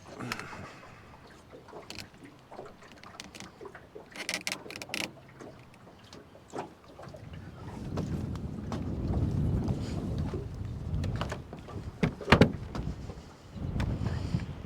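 Wind gusts buffet a small fishing boat, roaring and rumbling unevenly and building to a strong, steady blast in the second half, with scattered knocks and clatters over it.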